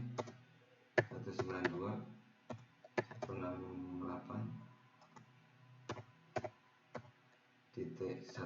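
Someone types a ping command on a computer keyboard, sparse sharp key clicks spaced irregularly, quiet and close, while someone speaks over much of the typing.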